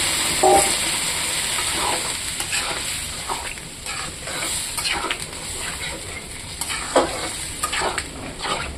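Water splashed into a pan of frying soybean chunks, potato and spices sets off a sustained, hissing sizzle with scraping stir noises, steady and close, fading slightly over several seconds without any voices.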